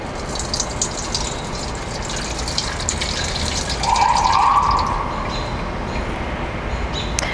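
Fresh lemon juice poured through a strainer to catch the pulp gives a steady wet trickle and splash, swelling briefly in the middle and then settling back into a soft continuous flow.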